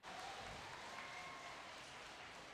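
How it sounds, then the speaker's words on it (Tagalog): Audience applauding at the inauguration of new school buildings at Grace Park Elementary School, a soft, even wash of clapping that sounds somewhat distant and continues steadily. "Palakpak po tayong lahat"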